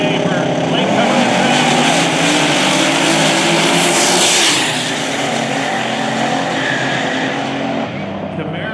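Drag racing cars, including a Camaro, at Lake Cumberland Dragway make a loud, dense engine roar that stays high and sustained, then drops off slightly toward the end, with an announcer talking over it.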